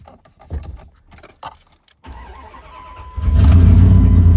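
A worn second-generation Dodge Ram truck with gear trouble is started: a few clicks and key rattles, a brief cranking whirr, then the engine catches and settles into a loud, steady rumbling idle close by.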